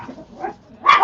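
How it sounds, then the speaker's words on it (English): Dogs indoors let out a few quick, close barks and yips, ending in a louder sharp bark during a home crafting session. "sorry, dogs. They think they're trying to play with the cat."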